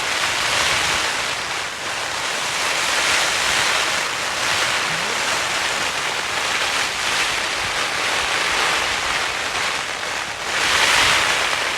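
A storm with 50 mph wind and heavy rain batters a wild camping tent, a loud, unbroken roar of gusts and rain with brief surges and no voices.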